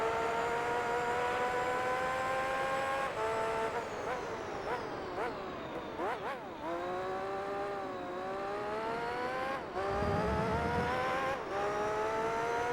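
Car engine in Gran Turismo 3, a loud whining drone that climbs in pitch through the gears with several sharp dips at shifts, accelerating steadily and alone without talk.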